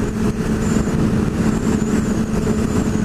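A BMW S1000RR motorcycle engine drones loud and steady nearby, a continuous mid-pitched running sound with slight fluctuations and no speech.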